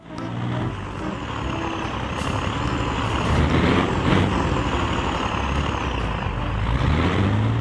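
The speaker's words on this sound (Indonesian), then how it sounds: "Mobil truk box." Toy box truck sound effects: a continuous loud diesel engine rumble with hissing air brake releases and faint beeping, close and steady throughout.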